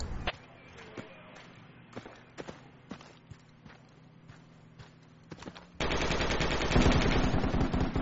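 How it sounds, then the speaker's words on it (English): Gunfire in the military shooter game Project Reality, with scattered single sharp shots and footsteps at first, then a sustained loud burst of rapid machine gun fire in the final seconds. "Yeah, machine gunner up the stairs."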